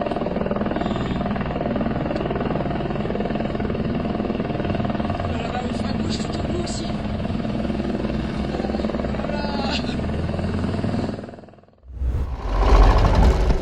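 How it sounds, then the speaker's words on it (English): A helicopter flying close to a snow-covered mountainside, its steady rotor thrum and engine roar filling the air close by, continuous and loud, then briefly cut out before resuming. "a helicopter flies close to a snow-covered mountainside"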